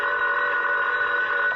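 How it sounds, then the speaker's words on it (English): A telephone bell rings in a radio drama, one sustained, bright, buzzing ring lasting well over a second, clear and alone. "my telephone rang"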